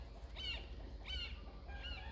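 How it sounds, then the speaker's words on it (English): A hawk screams in the background of a zone 9a vegetable garden, three descending high-pitched cries spaced about half a second apart over a low steady outdoor rumble, with no talking. "You hear that hawk in the background"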